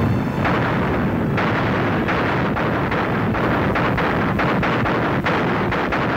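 Massive WWII artillery barrage with Katyusha rocket launchers firing, a dense continuous roar of overlapping booms and blasts with sharper reports punching through a constant rumble, loud and sustained throughout.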